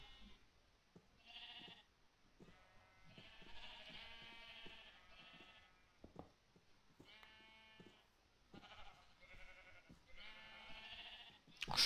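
Sheep in Minecraft bleat several times in short, nasal, wavering calls, spaced irregularly through a quiet stretch with faint clicking between them.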